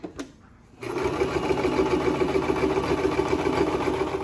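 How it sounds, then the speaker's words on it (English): A sewing machine stitching around a fabric mask. A short burst comes first, then a pause, then a steady, close, fast mechanical run that keeps going to the end. "I sew from here all the way here to here"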